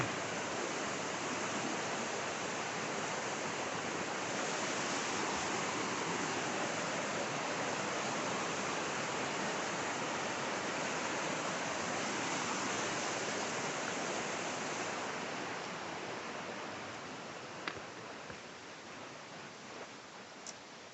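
A river rushes past an Appalachian Trail crossing in a steady, dense wash of flowing water that fades slightly toward the end, with a couple of faint clicks and no voices.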